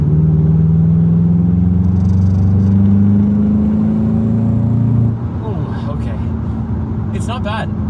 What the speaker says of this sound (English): I just want to highlight the sport mode and a little bit of performance on this car.